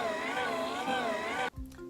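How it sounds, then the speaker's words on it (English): Hygieia breast pump running with a steady, wavering motor hum for about a second and a half, close to the microphone, then cutting off abruptly into a brief quieter stretch of background noise. "and this is the sound of my Hygieia pump."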